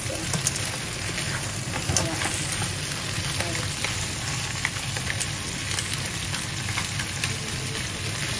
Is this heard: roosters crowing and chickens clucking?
no